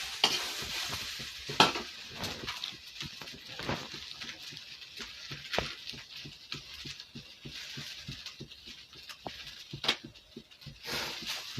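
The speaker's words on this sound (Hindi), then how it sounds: "तब तक मैं ऐसे ही छोड़ देती हूँ सब्जी भुजाने के लिए" Vegetables with salt and turmeric sizzle and crackle in a hot pan, with a steady frying hiss punctuated by frequent scraping stirs and small pops, up close.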